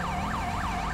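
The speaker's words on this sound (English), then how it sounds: "turn off the siren" A police car siren wails in the GTA 5 video game, its pitch rising and falling in a steady repeating cycle, loud and close throughout with no voices.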